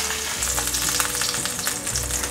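Potstickers crackle and sizzle in a pan after the water cooks off, a loud, close, continuous frying hiss with small pops.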